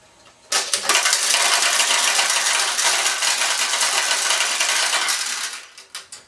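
Metal pachinko balls pour out of a Maruhon pachinko machine in a dense, continuous rattling cascade for about five seconds, loud and close, before trickling off into a few last clicks.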